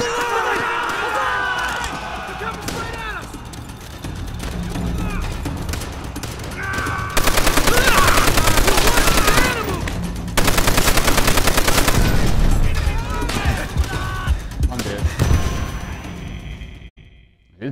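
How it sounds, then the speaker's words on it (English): Rapid machine-gun bursts and rifle fire crackle through a Call of Duty: World at War battle, swelling into loud, sustained volleys mid-way before thinning out, with a player's voice talking in between. "because I was getting shot"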